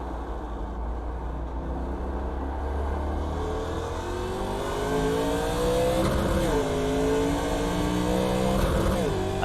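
A NASCAR Legends race car in iRacing at Sonoma growls loudly and steadily, its engine pitch climbing and dipping as it lifts, brakes and downshifts to second, then pulls again through the corner.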